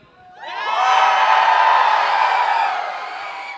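A large Anime Expo panel audience breaks into loud cheering and whooping that swells quickly, holds for a few seconds, then begins to fade.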